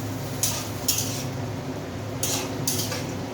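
Chickpeas sautéing in a pan for kabuli chhola over high heat, a low sizzle running underneath while a spoon scrapes and clinks against the pan in about four short bursts.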